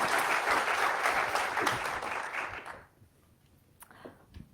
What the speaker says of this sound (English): If you can stand and receive an applause here.